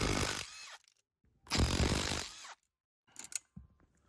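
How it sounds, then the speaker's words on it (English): Impact wrench shearing off 8mm bolt heads on a Honda Civic steering column during an ignition replacement, two long loud rattling bursts followed by a shorter choppy burst, close up with no talk. "I'm gonna try to do it with an impact just to make quick work of it here"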